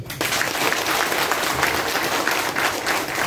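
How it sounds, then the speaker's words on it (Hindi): A crowd at a DXN education program in Doha, Qatar bursts into sustained applause, many hands clapping steadily and densely from start to finish after a brief quiet moment. "उसके लिए तालियां"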